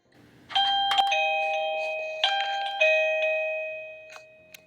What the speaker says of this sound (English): I also got this doorbell ringer